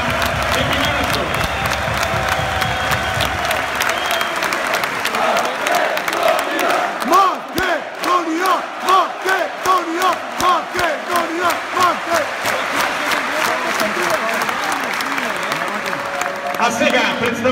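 A large crowd applauds and cheers a Macedonian veterans handball team, led by a legend, before an exhibition match against Pelister veterans, with a loud sustained roar that shifts into rhythmic unison clapping, an announcer's voice over it.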